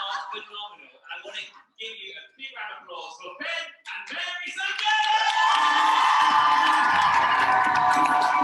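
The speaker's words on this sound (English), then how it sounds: "I want to give you a big round of applause for Ben and Mary Sunday!" Audience applause and cheering at a summit event swell up after talk, becoming a dense, loud, sustained wash of clapping and shouts that holds steady to the end.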